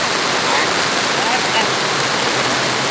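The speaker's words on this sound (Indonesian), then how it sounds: "Ini sangat hujan kuat sekali." Heavy rain pouring down at a factory during a work break, a loud, dense, continuous hiss of water that stays steady throughout and drowns out everything else.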